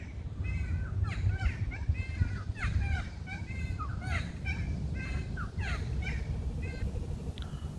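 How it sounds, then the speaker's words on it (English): Native Australian birds calling at a tropical fruit park in Cairns, including a kookaburra; repeated chattering, cackling calls overlap through the clip over a low steady background rumble, moderately near and fairly loud. "Also got a kookaburra behind me somewhere."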